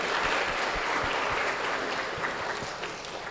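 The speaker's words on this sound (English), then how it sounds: "Please welcome Mr. Chan Visna, head of the judging board, with a big round of applause." Audience applause at an English public speaking contest as the head of the judging board is welcomed, a steady, even wash of clapping from a crowd, moderately distant and unbroken.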